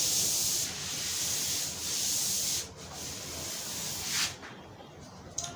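Writing on a board being rubbed out, a close, steady scrubbing hiss in sustained strokes that fades and drops away near the end, with no voices.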